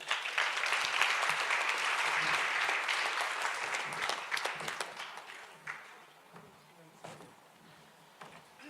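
Crowd applause at a bursary handover ceremony, loud and dense at first, then thinning into scattered claps as it fades out.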